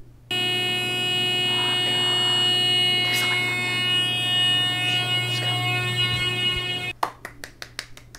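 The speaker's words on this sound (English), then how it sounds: "we don't know how to stop the alarm" An elevator alarm buzzes in one loud, unbroken tone for about seven seconds in the middle of the night, then cuts off and leaves a few sharp taps and clicks.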